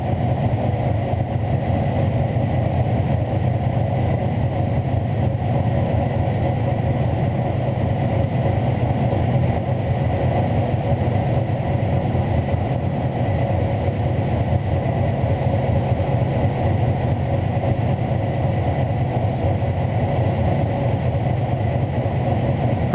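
A race engine roars steadily at high load on a dyno, a dense, sustained rumble that holds its pitch without clear revving changes, loud and continuous.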